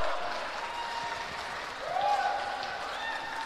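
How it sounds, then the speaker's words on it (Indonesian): Supporters at a regional election candidates' debate in Pamekasan applaud, a steady crowd patter of clapping with some voices mixed in, rising briefly then holding. "Saya persilakan tepuk tangan dulu para pendukung keduanya."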